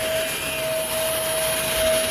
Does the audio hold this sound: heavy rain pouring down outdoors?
no